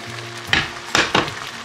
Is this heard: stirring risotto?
yes